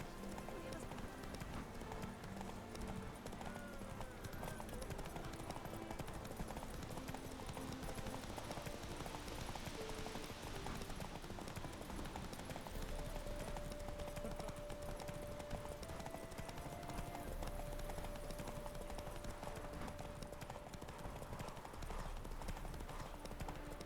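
Roach, the horse in The Witcher 3, gallops with a steady, dense run of hoofbeats throughout, heard under game noise and occasional talk.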